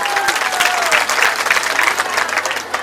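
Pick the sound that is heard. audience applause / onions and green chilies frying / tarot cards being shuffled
audience applause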